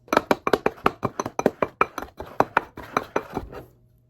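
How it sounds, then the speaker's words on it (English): A sweet potato being mashed in a bowl, giving a quick run of sharp knocks and clinks as utensil meets bowl, about a dozen close, even strikes that thin out near the end. "I'm gonna like mash this together in this bowl"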